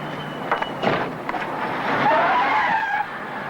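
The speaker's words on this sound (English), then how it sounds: "I'll park this car very fast." A car pulls into a parking spot at speed, its tires squealing and skidding on pavement. A loud, continuous whine of rubber builds after a couple of short thumps, with no talking.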